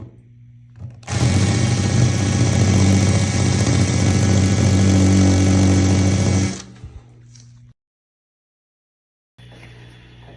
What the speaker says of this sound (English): You start drilling slowly